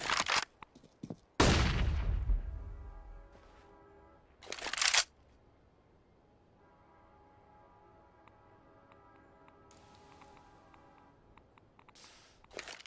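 A sniper rifle shot rings out in a professional CS:GO match, a sharp, loud blast with a long fading tail, followed by another burst and faint, quieter ticks and clicks.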